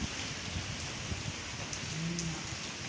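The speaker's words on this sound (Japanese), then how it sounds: "すごい雨だね、やっぱね。" Heavy typhoon rain pours steadily, heard from the shelter of a multi-storey parking garage as a dense, even hiss with no pauses.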